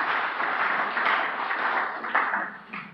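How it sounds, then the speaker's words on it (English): Steady applause from a congregation during a sermon, a dense, even patter of many hands that holds moderately loud for about three seconds with a few sharper claps standing out. "Thank you for clapping."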